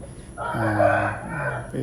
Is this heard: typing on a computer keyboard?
no